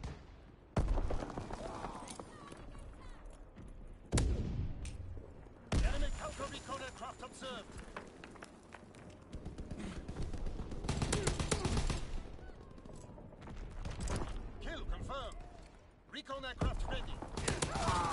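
Covering gunfire in Call of Duty: repeated sharp bursts and loud impacts spread through a chaotic battle, with voices shouting over the shooting.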